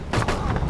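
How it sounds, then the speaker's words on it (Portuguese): Gunfire in the video game ArmA 2 DayZ Mod, a couple of dull, distant-sounding shots thumping out over a low rumble, with no talk over them. "Nossa, estou a escutar tiro."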